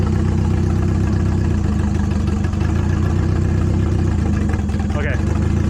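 Mazda Miata engine idling with an open downpipe after new injectors were installed, a loud, constant low rumble with a dense droning exhaust tone that holds steady without a break.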